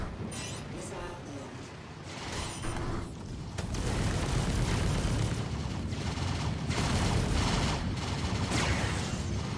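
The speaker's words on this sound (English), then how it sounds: "Now I know that these guns are a horrible choice. Scatter guns, I mean." Rapid scatter gun fire from a ship turret in the Star Citizen alpha 3.14.1, a dense, loud fusillade of overlapping shots and booms that swells after a few seconds and continues steadily to the end.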